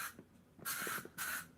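Aerosol spray can aimed at a wasp indoors: two short, sharp hissing bursts close by, with small handling clicks before them.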